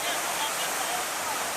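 Waikato River waterfall plunging as a solid wall of water into a basin, a steady, dense roar of rushing water filling the scene without pause.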